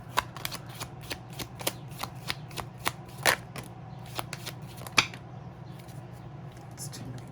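Tarot cards being shuffled, a rapid series of crisp riffling snaps and flicks at an irregular pace, close and moderately quiet over a faint background hum.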